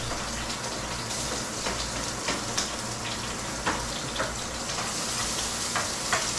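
Onion sautéing in cooking oil in a pan gives a steady, close sizzle, broken by occasional clinks and scraping stirs, with no talking.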